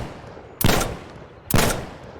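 Two sharp, loud shots from a pocket sniper rifle in Insurgency: Sandstorm, spaced about a second apart, each a close crack with a short decaying tail over quiet background.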